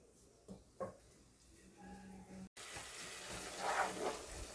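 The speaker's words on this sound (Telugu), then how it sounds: "ఒక 5 మినిట్స్ ఈ విధంగా కలుపుకుంటూ ఆయిల్లో మనం ఆనియన్ పేస్ట్ని మగ్గనివ్వాలన్నమాట" Onion paste sautés in oil for a chicken curry, a soft, steady sizzle with a few light clinks of a stirring spoon, quiet and close.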